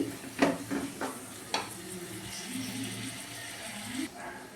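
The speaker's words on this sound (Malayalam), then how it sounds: "കുറച്ച് ഉപ്പിട്ട് കൊടുക്കാം നന്നായിട്ട് ഇളക്കി" Prawn curry stirred in a pan, with a few scraping strokes of a spoon against the pan early on, then a steady low sizzle and clatter underneath, at moderate volume.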